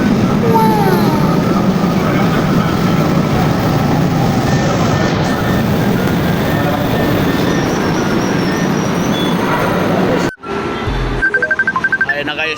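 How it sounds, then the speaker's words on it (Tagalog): A light rail train on the LRT line in Manila rumbles past close by with squealing wheels and a brief high whine, then the noise cuts off abruptly into quieter surroundings. "yung LRT sasakyan ko."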